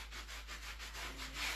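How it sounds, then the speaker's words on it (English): Furniture upholstery is sanded close by in a soft, steady rubbing rasp with gentle rhythmic swells, quiet throughout and with no talk. "I'm sanding the upholstery."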